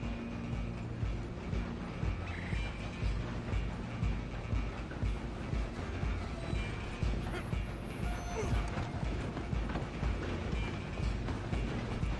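A steam train runs steadily in Red Dead Redemption 2, giving a continuous clattering, rattling mechanical rumble of wheels and cars that stays even and fairly loud throughout, with faint talk now and then.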